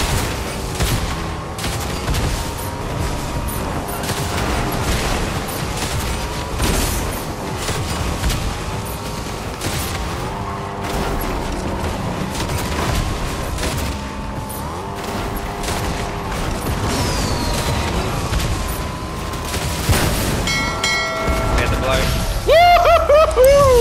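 Gunfire in the Fortnite video game, a dense, busy barrage of shots and impacts layered with game effects and engine noise, steady and loud throughout with a voice talking over it.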